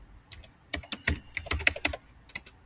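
Keys clatter on a computer keyboard while entering text into an Excel spreadsheet, a quick irregular burst of close, crisp clicks that speeds up in the middle and then tapers off.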